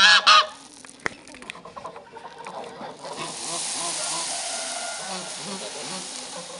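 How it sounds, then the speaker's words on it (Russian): Geese honk loudly at the start during feeding, followed by quieter scattered honking and a steady background buzz. "Все равно эти гуси"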